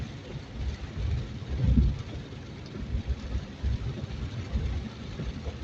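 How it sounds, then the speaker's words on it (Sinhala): Heavy rain falling on a road during a strong storm, a dense steady wash with low rumbling swells from vehicles passing nearby. "ඒ තරමට මේ වහිනවා."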